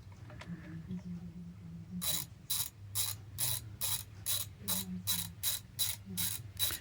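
A socket ratchet clicks rapidly and rhythmically on 10mm rocker cover bolts of a 1999 BMW E39 523i petrol automatic. After a quieter start, a run of evenly spaced bursts of close clicking follows.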